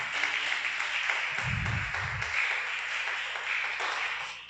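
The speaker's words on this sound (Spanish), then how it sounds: "Denle un fuerte aplauso al Rey de Reyes." A church congregation applauds continuously, a dense steady wash of many hands clapping at moderate loudness, with a brief low rumble partway through.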